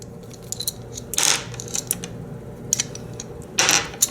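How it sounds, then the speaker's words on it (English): A ratchet wrench turning a socket through an adapter, with soft, close clicking pawl ticks in short bursts and two louder metallic rasps as the handle swings. "And we put our wrench on this side, and as we turn it, it turns our socket."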